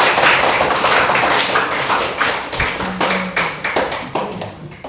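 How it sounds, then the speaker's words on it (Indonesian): A burst of hand clapping from a small group in a classroom lesson, sharp overlapping claps fading into scattered slower claps toward the end. "Ya, tepuk tangan."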